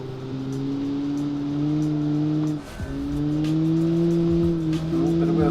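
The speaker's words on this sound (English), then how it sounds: "Now we're going downhill and onto the brakes." A 1956 Gasmea racing car in the Automation game braking downhill, its engine note dropping steadily in a loud, sustained drone with a brief dip midway, and no talking.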